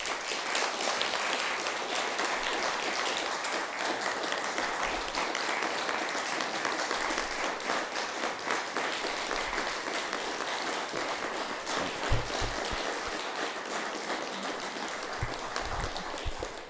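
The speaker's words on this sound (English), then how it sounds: "that applause is for you, the veterans" Sustained applause from a crowd honoring veterans at a Veterans Day ceremony in Rowlett, Texas, dense and steady clapping that rolls on without a break, with a few louder thumps near the end.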